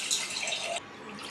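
Water pours into a pasta pan for chicken pasta as a steady splashing stream, close and fairly loud, then cuts to a quieter trickle partway through.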